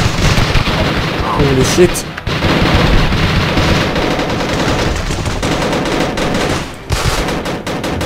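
Heavy, continuous gunfire in the game Uprising44: dense automatic bursts and booming shots pour out nonstop and loud, with a brief pause, while a player exclaims over the din.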